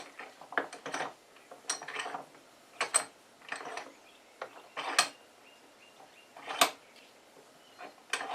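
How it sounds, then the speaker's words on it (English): Bench vise being tightened on a Soviet Spetsnaz aviator survival machete: sparse metallic clicks, clanks and ratcheting knocks, close and fairly quiet, with gaps between them. "we're going to go ahead and put it in the vise just for good measure"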